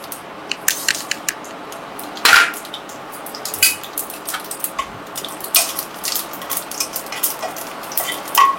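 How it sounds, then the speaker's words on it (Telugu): Cumin and mustard seeds fry in hot oil in a pan, giving off irregular sharp pops and crackles over a quiet sizzle, close by, with no talk. "జీలకర్ర ఆవాలు వేగినాయి."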